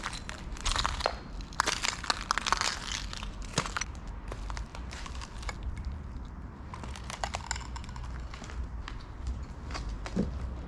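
Footsteps crunch over broken glass covering the floor of an abandoned factory, a dense run of crackling, grinding steps heard close up, steady throughout with bursts of sharper cracks.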